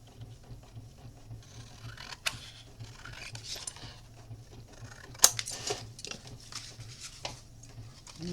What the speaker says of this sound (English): Normally I wouldn't dare cut with scissors